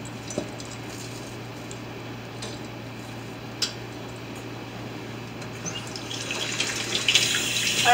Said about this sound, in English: I had to give my hands a quick rinse.